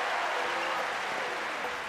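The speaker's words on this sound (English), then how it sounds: "Even Novak Djokovic applauded this shot." Applause from a tennis crowd after a Rafael Nadal shot, a steady wash of clapping, moderately distant and even for a couple of seconds.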